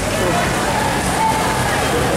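A heavy rainstorm pours down on the outdoor Diabari cattle market, a loud, dense, unbroken roar of rain hammering close by and drowning out everything else.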